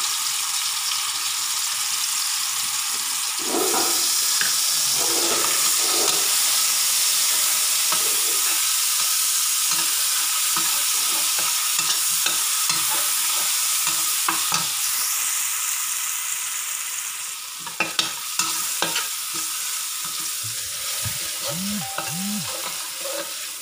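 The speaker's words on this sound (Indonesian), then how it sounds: "kita panaskan wajan, terus kita masukkan bumbu ya teman-teman" Steady sizzling and frying hiss of spice paste in a hot wok, with occasional stirring scrapes and clinks, close and continuous with no talking.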